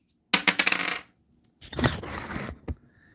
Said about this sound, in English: Let's roll your dice.